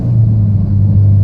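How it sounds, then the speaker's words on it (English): A 2014 Mitsubishi Lancer Evolution MR engine rumbles low and steady at close range while downshifting, with a deep droning tone and slight shifts in pitch, no talking. "Just listening to this car, just downshifting like that"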